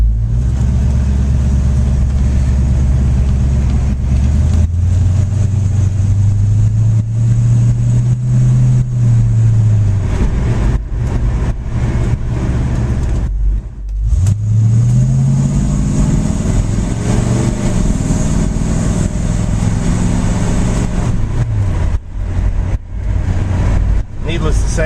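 A 1965 Ford Mustang Fastback drives and accelerates, its engine note rising and falling through gear changes in a loud, close, continuous drone heard from inside the car.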